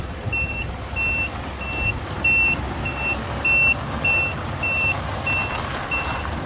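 A Volvo FM12 truck fitted with a Hino E13C 380 hp engine rumbles steadily in the background while a high reversing beep repeats at a regular pace over it.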